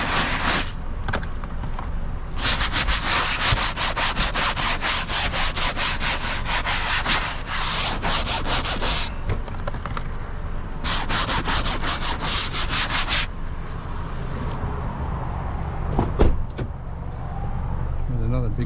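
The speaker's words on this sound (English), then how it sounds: "I can usually just scrub that with a brush." A brush scrubbing a grease spot on a car in steady, repeated rough strokes, loud and close, in long bursts with brief pauses between them, with a voice speaking over parts of it.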